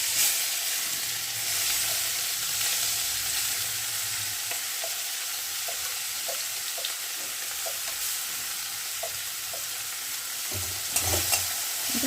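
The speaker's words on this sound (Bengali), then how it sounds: "এটাকে ভাজা ভাজা করে নেব" Chopped tomato, garlic and onion fry in mustard oil with dried chillies and cumin in a kadai, a continuous close sizzle and hiss with scattered light pops and a brief utensil clatter near the end, no voices.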